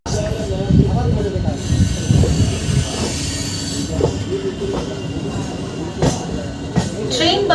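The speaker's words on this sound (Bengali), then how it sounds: "আমাদের ট্রেন ছেড়ে দেবে শালিমার।" Suburban local train from Santragachi to Shalimar running on rails, heard from on board: a loud, close rumble with wheel squeals and intermittent clacking over the track.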